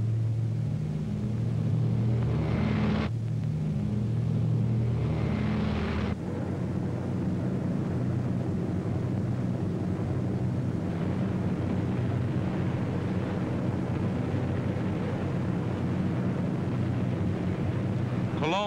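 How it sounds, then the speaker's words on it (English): RAF bombers of WWII pounding Hitler's Fortress Europe: a loud, heavy, continuous engine drone and rumble that holds steady throughout, with a thicker low roar in the first few seconds. "Hitler's Fortress Europe rocked under the terrific pounding of RAF bombers"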